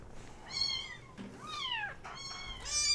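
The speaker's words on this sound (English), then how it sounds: "if you guys are hearing meowing, which I hope you are" Several kitties meowing close by, three distinct rising-and-falling meows in quick succession with no talking between them.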